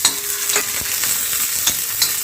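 Garlic frying with green chillies in a pan, a bright continuous sizzle with a few sharp spoon scrapes against the metal, close up and loud with no talking.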